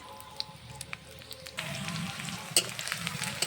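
Green chili and onion stirred in hot mustard oil in a kadai, a soft sizzle that swells into a louder, steady crackling frying partway through, with light scraping of a spoon.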